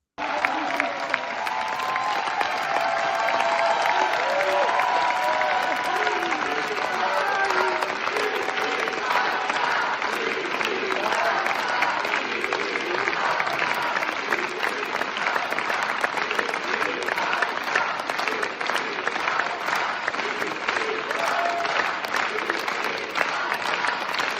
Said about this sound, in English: ovation during the applause with the Free Palestine chants